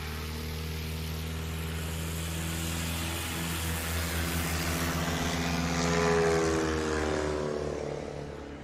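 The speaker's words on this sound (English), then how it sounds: "There went Tim Shellhorn in a 2021 Carbon Cub EX2." A 2021 Carbon Cub EX2 light airplane flies past at a STOL competition practice, its propeller drone building as it nears, swelling loudest near the end and then starting to fade.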